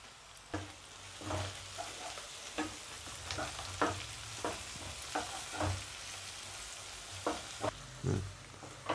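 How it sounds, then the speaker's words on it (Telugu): Onion, green chillies, mint and coriander frying in a pan with a pinch of turmeric for bhindi fry. A soft, quiet sizzle is punctuated by periodic stirring scrapes. "పుదీనా, కొత్తిమీర వేగిపోయాయండి మొత్తం"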